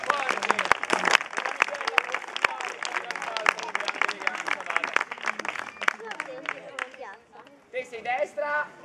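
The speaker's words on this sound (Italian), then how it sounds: "Un applauso." An audience claps for a magician's act at a medieval festival in Laterina, Italy, with brisk, sharp applause near at hand that thins out toward the end as chatter and voices take over.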